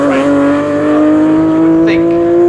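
Race cars lapping Snetterton circuit in an MSVR All-Comers and ASCARS race, a loud sustained engine drone holding a steady high pitch with a slight rise, close and continuous throughout.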